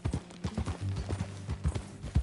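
Horse hooves clip-clopping in Red Dead Redemption 2, a close, quick rhythmic beat of hoof strikes over low rumbling, with a faint snort or whinny mixed in.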